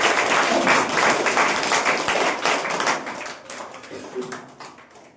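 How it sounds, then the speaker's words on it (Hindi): Dense, loud applause from the audience at a Saturday motivational seminar, steady at first and thinning toward the end, with a voice faintly audible underneath. "अपने लिए एक बार जोरदार ताली बजाएं।"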